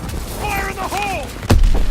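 A grenade detonates in Call of Duty WWII multiplayer, a sudden loud, heavy blast right after a shouted voice, with rumbling debris trailing off.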